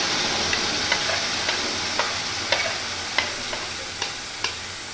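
Onion, butter and blended bottle gourd fry in a pan with a steady broadband sizzle, punctuated by regular sharp stirring scrapes roughly every half second, close and moderately loud with no talk.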